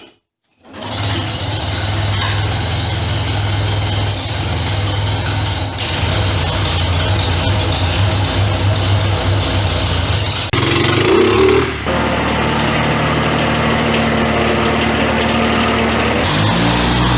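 An old Cub engine runs steadily and loudly with a constant low drone and a mechanical rattle, the pitch shifting slightly near the end as it keeps idling.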